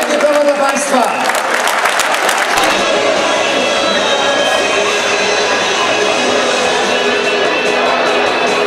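A speedway crowd of Falubaz fans in Leszno applauds loudly, with dense sustained clapping and some cheering throughout, steady and continuous from start to finish.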